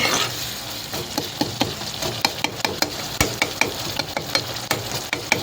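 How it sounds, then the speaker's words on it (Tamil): Curry leaves, cinnamon and bay leaves sizzle in hot oil while a spoon stirs them, with a constant close frying hiss broken by sharp, irregular clinks and scrapes against the pan. "கருவேப்பிலை போட்டேன் தாளிப்புக்கு, பட்டை லவங்க இலை பிரிஞ்சி இலை இதெல்லாம் போட்டிருக்கேன்"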